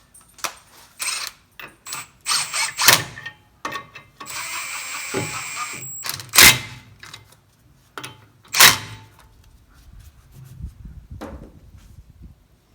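Lug nuts being put on a Ford F150 truck's rear wheel: clicks of a ratchet and metallic rattles come in irregular bursts, with a sustained whirring stretch midway and quieter handling sounds toward the end.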